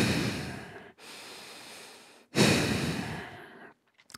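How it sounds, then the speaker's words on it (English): Bhastrika bellows breathing during a hatha yoga exercise: two long forceful rushes of breath through the nose, close and loud, separated by short silences, ending in a few faint quick puffs. "The Bhastrika, the bellows breath"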